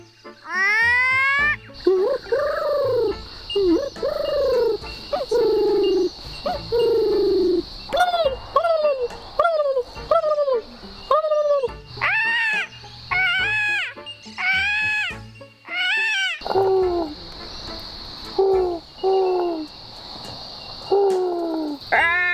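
Children imitating bird calls at a bird call competition, a run of voiced whistles, coos and warbling chirps in short bursts with brief pauses, loud and close against a faint steady hiss.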